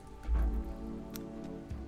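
Rain falls in Rimworld gameplay as a faint patter of light drops and ticks, with a soft low thump early on and a quiet steady background.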